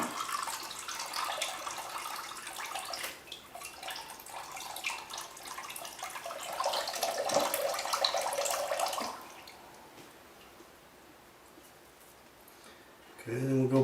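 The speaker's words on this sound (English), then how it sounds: "So just let the water run out." Water runs out of a cracked raw food into a bowl, a steady trickling splash for about nine seconds under faint background, then the flow stops and the clip goes quiet before a brief louder sound at the end.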